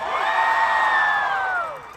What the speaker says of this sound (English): I want to hear you cheer for these songs